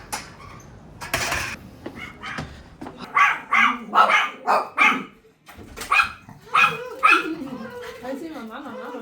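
Several dogs welcoming their owners home, barking in repeated loud bursts mixed with whimpers and yips close by, while people talk over them.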